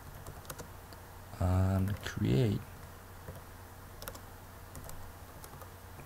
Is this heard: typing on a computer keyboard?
yes